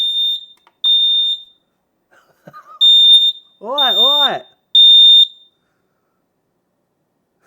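An X-Sense wireless interlinked smoke and heat alarm sounds loud, shrill piercing beeps in four separate blasts of about half a second each, with a person briefly speaking between them.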